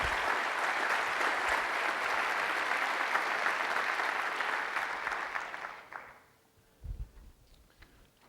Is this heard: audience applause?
yes